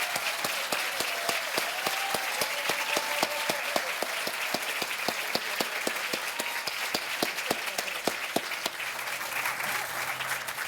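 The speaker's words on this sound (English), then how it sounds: "give one more round of applause to all the award" Sustained audience applause at a university award ceremony honoring award recipients, a dense, steady wash of many hands clapping throughout with no pause, loud and fairly close.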